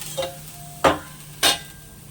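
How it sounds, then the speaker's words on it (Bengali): Cooked rice for kheer pulao being stirred in a pot after the lid comes off, with three short, close scraping strokes spaced about half a second apart over a faint steady hum. "ঢাকনাটা খোলার পর একটু নেড়ে চেড়ে দিতে হবে।"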